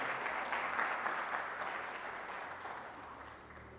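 A church congregation gives a sustained round of applause as an offering during a teaching service, a thick wash of clapping that gradually thins and fades toward the end.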